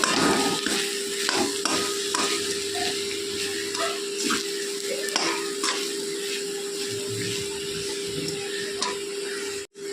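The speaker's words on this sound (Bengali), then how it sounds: "চিনিটা দিয়ে আবারও একটু নেড়ে চেড়ে দেবো" Sugar stirred into a radish curry in a pan: repeated scraping spatula strokes over a steady low sizzle, close and fairly continuous, with a faint background hum.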